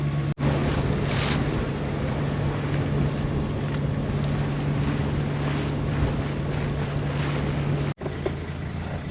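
A sailboat under way toward an anchorage at Bahia Santa Maria, Baja California Sur, Mexico, with steady loud wind noise on the microphone, rushing waves and a constant low engine-like hum running throughout, no voices.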